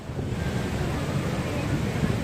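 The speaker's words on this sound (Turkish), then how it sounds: "şu anda şelaleye ulaştık zaten" Steady broadband roar of water at Manavgat Waterfall in Turkey, a continuous close wash of rushing water with some wind buffeting on the microphone.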